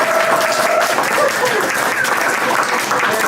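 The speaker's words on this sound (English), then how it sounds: "Shall we give them a rousing hand of applause?" Audience applause for an eco-village fills the room, a dense, steady wash of clapping from a sizable crowd that holds at an even level throughout.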